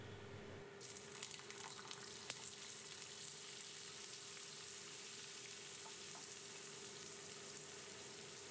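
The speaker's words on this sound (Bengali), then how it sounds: "আর একটা প্যানে তেল গরম করে নিয়েছি, এতে আমি পনিরগুলো ভেজে নিচ্ছি।" Paneer pieces fry in hot oil in a pan, giving a dense, steady sizzle that starts abruptly and continues evenly and close by throughout.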